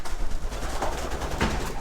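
Homing pigeons coo inside a loft divided into compartments, soft low calls repeating over a steady rustling background, close by with no voices.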